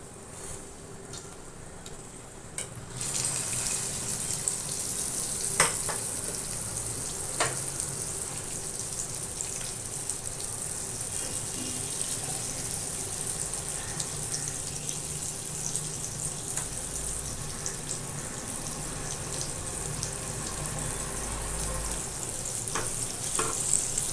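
Ravas fish coated in masala fries in oil with crushed garlic over a medium flame, a loud, even sizzle and hiss that swells early and holds steady, with occasional sharp pops.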